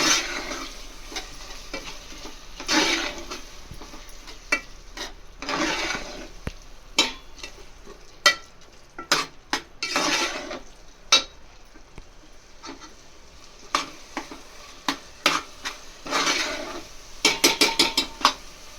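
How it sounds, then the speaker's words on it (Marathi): Pav bhaji vegetables sautéing in a pan, a low steady sizzle broken by repeated spatula scrapes and metallic clanks against the pan, the clatter growing busier toward the end. "चांगले परतून घ्यायचे."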